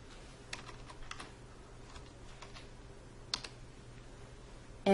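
Computer keyboard typing during a Linux install, sparse quiet key taps scattered over a low steady hum, with a sharper click near the end.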